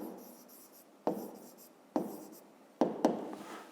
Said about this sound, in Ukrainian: ну і пишемо складені числа